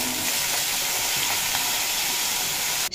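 Young jackfruit pieces fry in hot mustard oil in a kadai, giving a loud, continuous close sizzle that holds steady and breaks off abruptly at the end.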